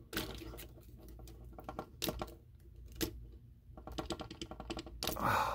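Small loose part rattling inside a Transformers Studio Series Leader Class Shockwave figure, a series of close, light plastic clicks and taps in irregular bursts as the toy is shaken and handled.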